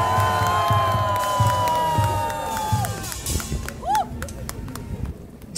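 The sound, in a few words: audience applause and cheering at speech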